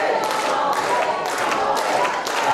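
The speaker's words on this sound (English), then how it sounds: "Crowd trying to urge Chocolate Thunder back into this match" A wrestling crowd roars and claps steadily to urge on the wrestler Chocolate Thunder, a dense, continuous wash of cheering and applause with voices mixed throughout.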